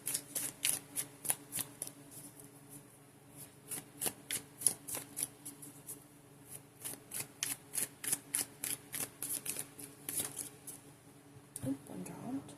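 Tarot cards being shuffled in a soft, close, quiet setting: a steady run of crisp riffling flicks and taps repeating rhythmically, with a brief rustle and card drop near the end.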